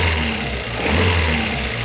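An Audi 80 engine with a broken accelerator cable runs close up, its steady mid-pitched drone easing down from higher revs as it decelerates, with no talk over it.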